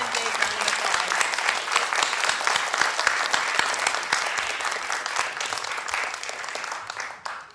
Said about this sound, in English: Let's give that entire group one big round of applause.